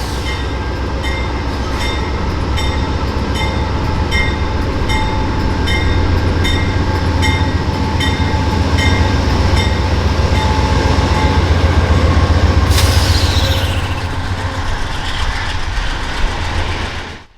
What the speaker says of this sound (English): we would head towards the end of the platform to watch the train depart northbound